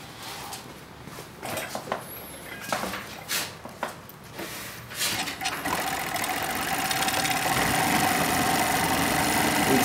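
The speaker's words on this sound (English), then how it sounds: "It's very quiet, very smooth. Make the cover stitch up and down, and it trims and lifts the foot at the same time." Pegasus W500 coverstitch sewing machine starting with a few scattered mechanical clicks and knocks, then settling into a steady, fast whirring hum of stitching close by.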